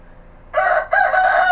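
A talkative rooster crows loudly and close by, one strong two-part call with a brief break before the long drawn-out second half, with no voices over it.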